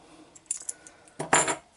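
A set of keys, part of a Scenarbox V4 kit, is handled with a few light metallic clinks followed by a louder jangle near the end, close and clear, with no talk.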